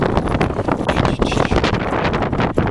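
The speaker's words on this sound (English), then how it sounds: "Kind of windy, I apologize for that." Gusty wind buffets the microphone outdoors beside a 1977 Pontiac Trans Am, a loud, continuous rumbling roar with uneven surges and brief dips, no other sound standing out.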